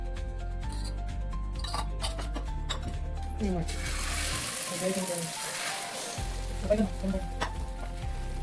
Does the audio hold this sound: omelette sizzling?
yes